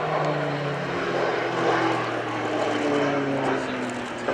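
Propeller aerobatic planes fly spiral manoeuvres at the RIAT 2016 airshow at Fairford, with a loud, steady engine drone and shifting pitch as they pass, and voices faintly underneath.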